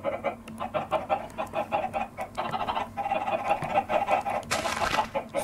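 A chicken in the Minecraft video game gives short, repeated clucks among other game sounds, with a loud hissing burst near the end.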